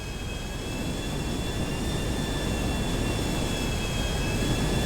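Jet airplane engine in GTA 5 roars as a steady, loud, continuous whine and rumble, unbroken for the whole stretch.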